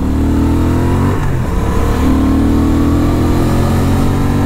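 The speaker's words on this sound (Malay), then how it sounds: "Baik lah bunyi enjin ni." A Honda Transalp 750 motorcycle engine runs loud and close with a steady mid-pitched drone, dips briefly around the middle, then picks up again into a sustained rev.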